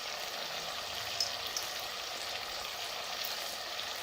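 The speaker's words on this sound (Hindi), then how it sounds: "अब मज़ीद 6 से 7 मिनट के लिए इसको भूनेंगे।" Chicken and moong dal roast in a pan with a steady, even sizzle and crackle that stays close and continuous throughout, with no talking.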